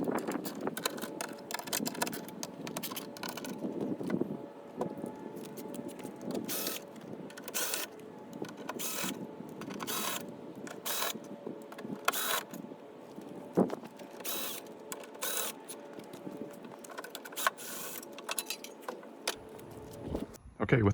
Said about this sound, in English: There are 9 T30 Torx fasteners holding this cover plate in place